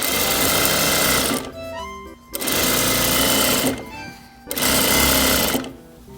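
A sewing machine stitches curtain fabric in a repair shop, running in three loud, close bursts of rapid mechanical whirring separated by short pauses with faint handling noises.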